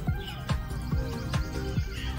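Allahabadi Kaldam fancy pigeons coo in a loft, low repeated swooping calls roughly every half second, close and steady over a continuous background murmur.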